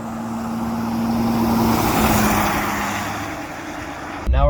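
A vehicle on Prinx HiCountry HM1 mud-terrain tires rolls along a dirt road, giving a steady rumbling drone of engine and tire noise that swells in the middle and eases off, ending with a sudden louder thump.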